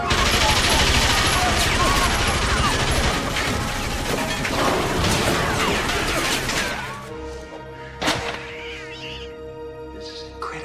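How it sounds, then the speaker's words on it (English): Rapid bursts of Tommy gun fire from an old movie, dense crackling volleys that fade after several seconds, followed by a single sharp shot and quieter background sound. "A Tommy gun."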